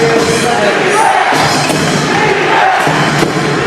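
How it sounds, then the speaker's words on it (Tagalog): A Pampanga home crowd chants for defense during the fourth quarter of an NBL Pilipinas basketball finals game, a loud, dense roar of many voices that rises and falls steadily throughout with no break. "you can hear the chance of defense coming from this Pampanga crowd"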